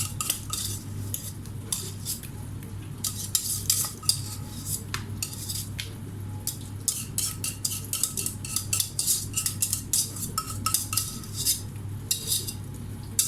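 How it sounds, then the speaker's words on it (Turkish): Béchamel sauce being spread with a metal spoon over cauliflower and mixed vegetables in a baking dish makes quick, irregular clinks and scrapes against the dish, close and fairly loud, with a low hum beneath. "hemen güzelce üzerlerine kaşıkla süreceğim"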